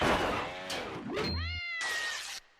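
A cat meows several times in quick succession, loud and close, with rising and falling drawn-out cries and a short pause before a final longer, sustained meow.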